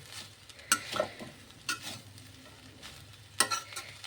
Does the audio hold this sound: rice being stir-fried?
yes